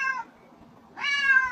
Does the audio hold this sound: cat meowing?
yes